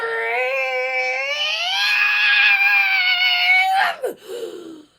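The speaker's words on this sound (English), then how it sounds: "I'm going to scream." A singer holds a loud, sustained scream-like high note at the end of a song during audition practice, strong and unbroken for several seconds before breaking off abruptly into short falling fragments.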